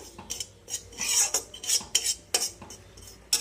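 A spoon stirs a small batch of semolina (suji) in a metal pot, with repeated sharp scrapes and clinks in an irregular rhythm, close and fairly loud, with no talking.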